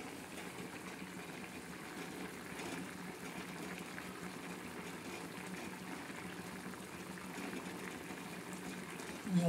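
Cabbage curry (a flower-style sabzi) bubbling steadily in a covered pot, giving a continuous soft simmering burble and gentle wet crackle at a constant level with no talking, then a slight rise at the very end.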